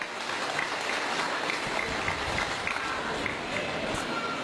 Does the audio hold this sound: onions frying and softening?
no